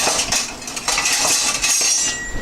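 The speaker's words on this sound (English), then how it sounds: "I'm just going to stir the spaghetti so it doesn't stick" Spaghetti being stirred in a pot for spicy beef spaghetti, with close metallic scraping and clinking of a utensil against the pan, irregular and fairly loud.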